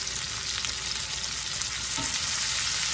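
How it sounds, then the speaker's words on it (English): Onion fries in a pan with okra and potatoes for a hash, giving a loud, continuous close sizzle with soft stirring scrapes beneath. "Got my onion in there now. Get that stirred around."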